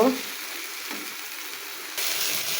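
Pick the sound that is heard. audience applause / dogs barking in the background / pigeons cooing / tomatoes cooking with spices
tomatoes cooking with spices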